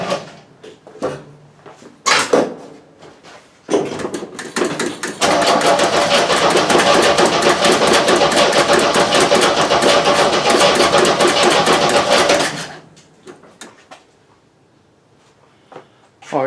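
An old car engine that has sat unused for 30 years cranks loudly and rhythmically at close range for several seconds, after a few short clicks and thumps, then stops.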